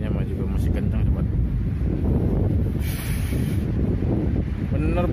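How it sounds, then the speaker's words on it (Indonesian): Strong wind roars into the microphone on the eve of New Year 2021 in Taiwan, a loud continuous buffeting rumble with a brief higher gust in the middle, while a person talks over it. "Anginnya juga masih kencang"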